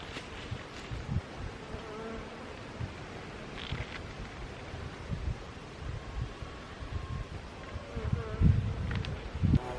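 Honey bees buzz continuously around a hive that holds capped honey stores, with a dense steady hum close to the microphone, some brief louder passes and light wind noise.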